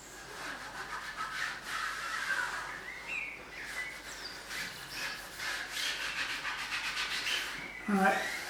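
A towel rubbing sealant off a bike tyre on a tubeless setup, heard as repeated close scrubbing and rubbing strokes in an uneven rhythm, moderately loud, with no talking.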